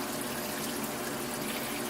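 Tap water at a sink runs steadily into a film developing tank, making a continuous splashing gush of moderate loudness with no talking.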